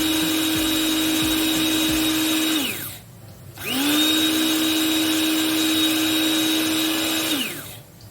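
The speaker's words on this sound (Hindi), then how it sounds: "किसी भी कॉफ़ी ग्राइंडर में कर लें या ड्राई मिल यूज़ कर लें।" Coffee grinder pulverizing coriander and cumin seeds into a coarse powder, two loud high-pitched motor bursts separated by a short pause, each winding down at the end, no speech.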